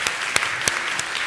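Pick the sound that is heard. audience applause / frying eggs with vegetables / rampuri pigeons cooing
audience applause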